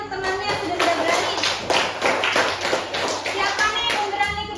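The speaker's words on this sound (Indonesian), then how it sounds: "tepuk tangan ya untuk temannya yang sudah berani" Schoolchildren in a classroom clap for a classmate, giving an uneven patter of small hands at close range, with young voices calling out over the clapping.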